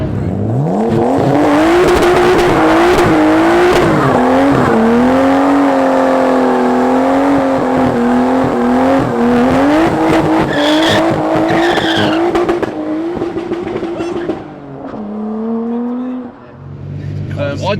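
A Nissan 200SX with a Skyline RB25 engine accelerates hard and spins its rear wheels. The loud, close engine roar climbs and falls with shrieking tyre squeal for a long stretch, and a voice speaks over it at times.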